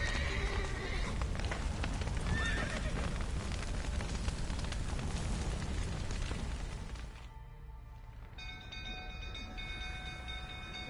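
A horse in The Witcher 3 whinnies and its hooves clop over a dense, loud game soundscape with rumbling and clatter that drops to quieter tones near the end.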